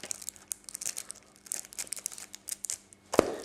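Plastic film being peeled and torn off a PS3 game case, close crinkling and crackling in short bursts, ending with a sharp snap.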